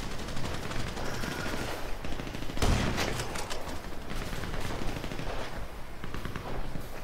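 Rapid automatic gunfire in Grand Theft Auto V, with sustained bursts of shots throughout and a sharper, louder volley near the middle, with no talking.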